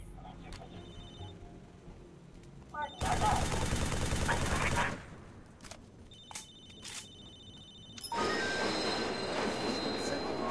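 In the video game Halo 3: ODST, a loud train rumbles past in a burst, then fades; a second rush of rolling rail noise builds toward the end, with a phone ringing faintly amid it.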